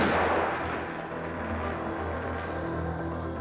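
A sniper rifle shot in a movie opens with a single sharp blast that decays into a long, low rolling echo, heard alone and fairly faint.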